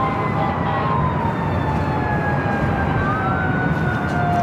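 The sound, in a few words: fire truck sirens responding to airport alert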